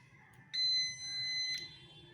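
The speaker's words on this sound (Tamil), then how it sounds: "இந்த பீப் சவுண்ட் வந்துருச்சு பாருங்கள், அவ்வளோதான். சூப் முடிஞ்சிடுச்சு." A kitchen appliance finishing a radish soup gives a long, clear electronic beep, close and fairly loud, after a quiet start.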